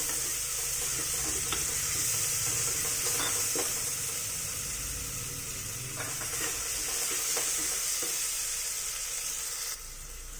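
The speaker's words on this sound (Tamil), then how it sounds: "ஸோ இப்போ இதையும் நம்ம வந்து நல்லா சாட்டே பண்ண போகிறோம்" Mushrooms sautéing with a spice paste in a hot pan for mushroom rice: a steady, close sizzle with faint scrapes and taps of stirring throughout, no voices.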